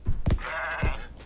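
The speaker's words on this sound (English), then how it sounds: "Get back here, you dirty goat!" A goat bleats in the video game Zanki Zero, a loud, nasal bleat lasting about a second with sharp thumps at either end, alone with no talking.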